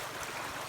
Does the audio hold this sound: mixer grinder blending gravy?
no